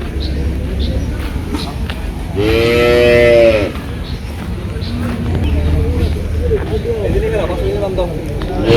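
Cattle at a village cattle market low out a clear, drawn-out moo of about a second, close and loud, with a busy crowd murmuring around it and people talking nearby throughout.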